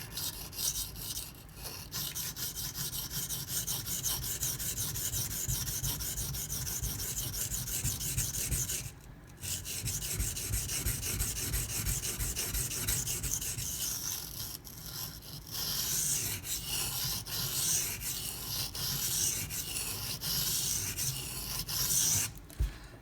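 A Zero Tolerance 0393 folding knife with a CPM-20CV steel blade and a steep grind is sharpened on an abrasive, giving a continuous close rasping rub in long sustained passes with brief pauses between sets.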